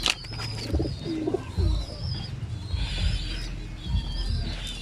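Young pigeons in a loft coo softly and steadily, their low throaty calls repeating against a faint background hiss.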